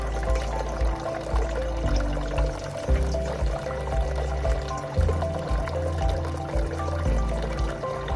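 Water pours steadily and continuously from an Osmio Fusion 3.0 hydrogen reverse osmosis system dispenser into a bowl during sanitisation, draining about 2.5 liters, a low mechanical hum running underneath for the whole stretch.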